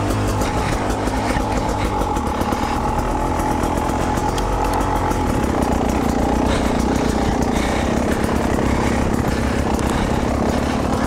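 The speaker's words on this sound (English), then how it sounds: "now we're gonna raise the idle as high as it'll go" Small engine running steadily and loud throughout, its drone holding constant as the idle is raised high, with no voices over it; the machine has a broken throttle far from the truck.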